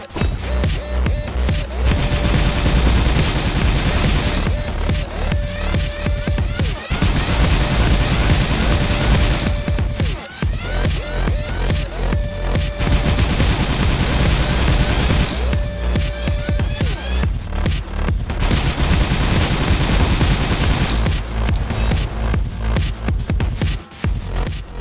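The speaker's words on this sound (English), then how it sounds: "Next, I'll show off a few shots of me shooting the gun" Repeated bursts of Needler fire from Halo Reach, loud streams of rapid shots lasting a few seconds each with brief pauses between, over a busy game soundscape with no talking.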